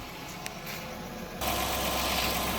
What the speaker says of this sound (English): So this is a 4-cylinder engine